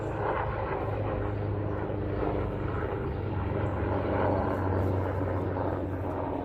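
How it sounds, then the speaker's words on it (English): Steady low rumbling drone of an aircraft, continuous and fairly loud throughout, with no voices, consistent with a helicopter passing overhead. "Sorry about the helicopter."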